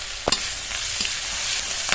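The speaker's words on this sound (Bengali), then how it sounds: "মশলাটা একটু ভেজে নেই মানে রসুন আর আদাটা কিন্তু একটু ভাজা ভাজা হবে" Grated garlic and ginger fry in hot oil with green chilli, making a dense, continuous close sizzle with a couple of brief utensil scrapes near the start, no voices.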